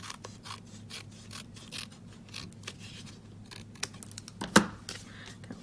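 Scissors cutting the bottom off a sheet of designer paper for a handmade baby card, a series of quiet close snips and paper rustles followed by one louder crisp cut near the end, with a low hum underneath.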